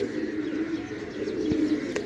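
A pigeon kept for sale in Jhelum, Pakistan coos close by, a low, throaty, repeated murmur that carries on steadily through the moment.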